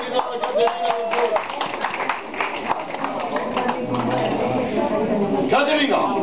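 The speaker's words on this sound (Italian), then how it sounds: "Un applauso di nuovo Caterina." A small audience at a residence show claps for volunteer Caterina, brisk scattered hand claps heard close, mixed with someone talking and some chatter over the top.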